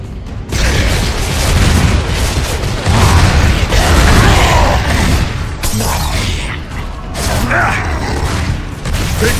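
Sustained gunfire and booming impacts from the Gears of War 3 battle, loud and dense throughout, with rumbling blasts and mechanical clatter layered in a chaotic combat mix.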